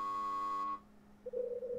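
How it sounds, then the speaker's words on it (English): A door buzzer in the video game Last Window sounds as a sustained electronic tone lasting under a second, followed by a quieter, wavering beep. "No answer when I press the buzzer."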